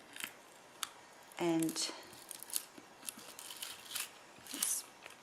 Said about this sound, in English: So you cut it through the rubber